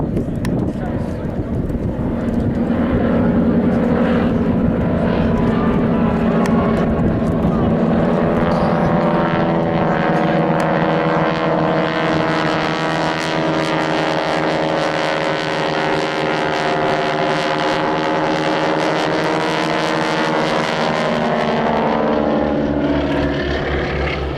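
Vintage display aircraft dive together at an air show, with a loud propeller engine drone whose pitch rises and falls as they pass. A commentator talks over it throughout.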